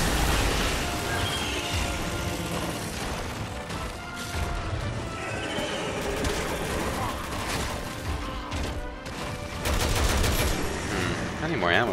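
Dense gunfire in Resident Evil 6 during a zombie fight, with bursts of shots, crashes and impacts layered over game sound throughout, and a voice talking over it at times.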